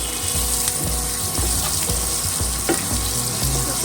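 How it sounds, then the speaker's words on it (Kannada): Chopped onion sizzles in hot oil for rice flour upma, a steady close frying crackle with soft regular pops and no voices. "ಇದು ಫ್ರೈ ಆದ್ಮೇಲೆ ಇದ್ರಾಗ ಸಣ್ಣಗೆ ಹೆಚ್ಚಿಟ್ಕೊಂಡು ಉಳ್ಳಾಗಡ್ಡಿ."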